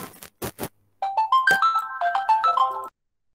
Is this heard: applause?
no